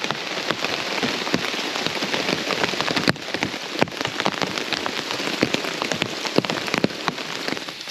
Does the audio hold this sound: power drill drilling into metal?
no